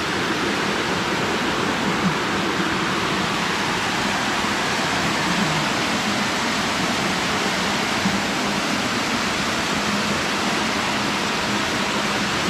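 Pallagutta waterfalls near Rachakonda Fort, a continuous broadband roar of falling water, steady and fairly loud throughout with no voices.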